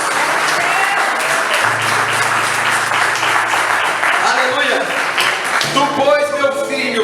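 A church congregation claps together in steady, dense applause, loud and close, with a preacher's voice and music running underneath.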